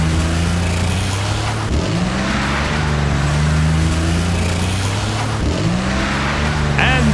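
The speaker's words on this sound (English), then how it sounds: "there's Dan trying to catch up to the other monster trucks" Monster trucks roar around a race track with steady, loud engine drone and revving, and twice the pitch swoops as trucks rush past. An excited commentator talks over the noise.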